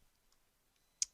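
A single sharp mouse click, close and fairly crisp, after near silence while an account is being activated on a computer.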